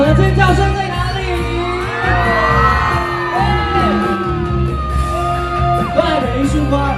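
A festival concert crowd at a temple celebration in Changhua screams, yells and whoops loudly and continuously for a singer, with scattered shouts and a brief bang near the end.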